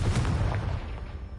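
A Confringo fire spell cast in Hogwarts Legacy on PS5 lands as a dull, booming burst that rumbles low and loud, then fades over about a second and a half.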